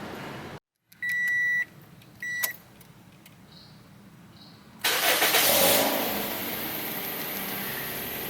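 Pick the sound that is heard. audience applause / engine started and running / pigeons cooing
engine started and running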